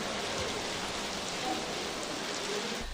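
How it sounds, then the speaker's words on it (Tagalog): Heavy, gusty monsoon rain pouring over Taal Lake in Laurel, Batangas, a dense continuous hiss of drops hitting the surface that holds steady throughout with no talking. "Halos zero visibility sa Taal Lake dahil sa malakas at pabugso-bugsong ulan dulot ng habagat"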